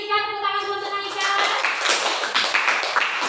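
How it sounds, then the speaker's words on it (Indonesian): A classroom of students claps for their classmate Naika during a civics lesson, scattered hand claps rising after a moment of voice, mixed and fairly close. "tepuk tangan dulu untuk Naika"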